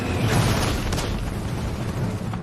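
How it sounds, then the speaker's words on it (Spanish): Enemy mortar rounds bursting around an American infantry company in World War II, dense rumbling booms overlapping in a continuous roar of heavy impacts with no voices. "No pasa mucho tiempo hasta que los disparos de los morteros enemigos apuntan de nuevo a la compañía C."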